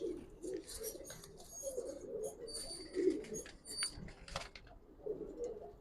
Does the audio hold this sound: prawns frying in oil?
no